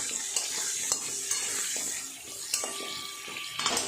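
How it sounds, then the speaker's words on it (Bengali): Potato pieces frying in oil with salt and turmeric, a steady close sizzle broken by rhythmic scraping and tapping of a spatula as they are stirred, no talking. "একটু নুন আর হলুদ দিয়ে ভেজে নেব"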